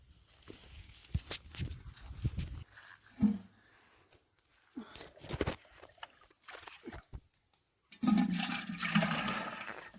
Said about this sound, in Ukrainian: Набирать водичку.